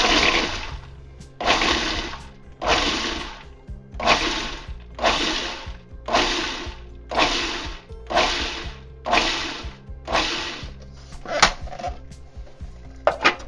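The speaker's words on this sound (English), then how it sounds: "and then I'm just going to pulse it" A food processor pulses cauliflower into rice: about ten loud, evenly spaced whirring bursts, each roughly a second long with short pauses between, close and without talk.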